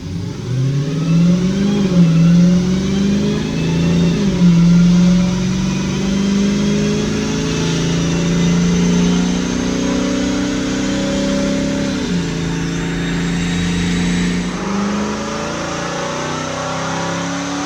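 A modified car engine on a dyno, revving hard and loud in long sustained pulls that climb, dip and climb again before easing off near the end, with no talk over it.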